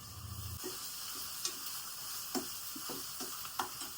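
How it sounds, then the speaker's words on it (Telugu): Half a kilo of chicken sizzles quietly in a pan, a soft continuous fry broken by occasional stirring clicks and scrapes, faint and close, with no talking. "½ కేజీ ఏమో చికెన్ ఫ్రై వేస్తున్నాను"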